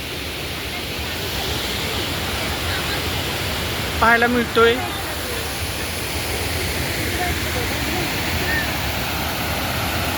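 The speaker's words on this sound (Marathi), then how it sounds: "प्रचंड वेगाने वाहणारे हे धबधबे आहेत" A constant heavy roar of rushing water from a monsoon waterfall at Dhutpapeshwar temple, Rajapur, Konkan, fills the clip, while a voice briefly speaks over it midway.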